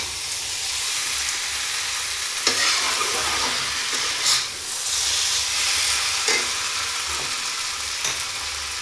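Potato and eggplant sizzle steadily in a hot pan, with intermittent scraping and stirring strokes of a spatula cutting through the constant frying hiss.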